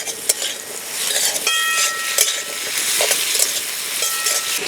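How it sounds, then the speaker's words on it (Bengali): Green chilies, garlic and other ingredients sizzle and crackle in a hot pan, a loud continuous frying hiss broken by sharp stirring scrapes and clinks. "এবার এগুলোকে একটু ভেজে নেব।"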